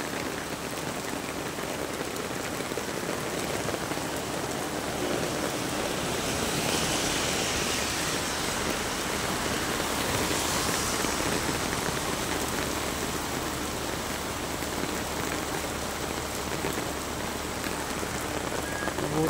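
Heavy rain pours down steadily during an outdoor procession, a dense, continuous roar of drops hitting surfaces that stays loud and even throughout with no talk.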